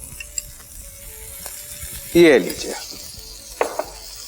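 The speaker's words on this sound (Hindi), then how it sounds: "इसे थोड़ा सा रोस्ट टाइप कर लेते हैं, इसे थोड़ा सा कलर देते हैं। और ये कलर देने के लिए जरा इसमें मक्खन डालते हैं" Boiled pumpkin sizzles in butter in a pan over high heat, a sudden loud hiss bursting up then fading, with a brief spoken phrase and clinks of utensils.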